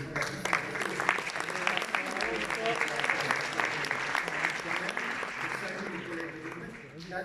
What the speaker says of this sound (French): on peut applaudir les collègues